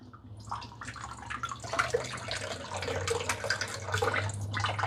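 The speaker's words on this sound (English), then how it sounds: "So I'm going to drain this water out" Water drains off soaked, reconstituted cranberry raisins, a close, continuous pouring and splashing that builds in strength and keeps running to the end, with no talk.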